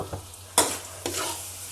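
Lentils, dried red chillies, garlic and curry leaves sizzle in hot tempering oil with the stove just switched off, a close, steady frying hiss broken by a few sharp stirring scrapes and no talking.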